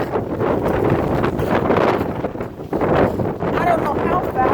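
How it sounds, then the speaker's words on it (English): A strong windstorm roars and buffets an outdoor microphone in loud, continuous gusts that swell and briefly dip, with no talking. "Windstorm or something real strange. Wind's blowing like"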